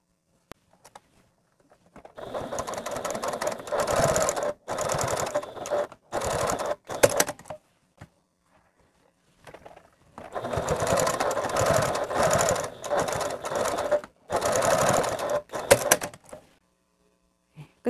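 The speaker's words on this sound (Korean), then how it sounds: "맨 끝을 이제 눌러서 박아주시면 됩니다." A sewing machine stitches the folded end of a fabric filter mask in two long, fast, whirring runs separated by short pauses, close and clear.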